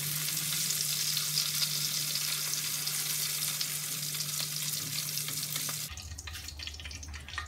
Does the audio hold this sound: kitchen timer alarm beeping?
no